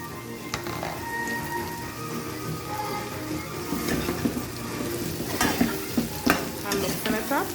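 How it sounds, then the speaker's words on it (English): Tender boiled potatoes sizzling with translucent onions in a frying pan for fried aloo, a steady crackling fry with scraping stirs and clinks growing busier toward the end, close and moderately loud. "When the onions are translucent, then you can add your potatoes. I'm adding the potatoes now"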